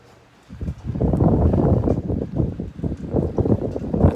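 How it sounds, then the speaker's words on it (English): Gusty wind buffets a phone microphone outdoors in the rain, a low, rumbling roar that swells after a quiet start and keeps churning unevenly. "It's probably really windy. It's probably hard hearing me"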